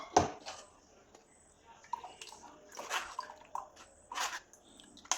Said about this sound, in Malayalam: ഇതിലേക്ക് കുറച്ച് വെള്ളം ഒഴിച്ച് കൊടുക്കണം.